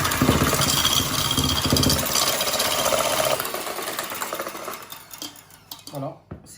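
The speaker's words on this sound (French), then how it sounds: "كنديرو البيضه ديالنا والسكر ديالنا وغادي نطربهم مزيان حتى كتولي بيضه" Whole egg and sugar are whisked together for a chocolate-vanilla cake batter, a fast steady clatter of whisk against bowl that runs loud, then thins into looser strokes near the end.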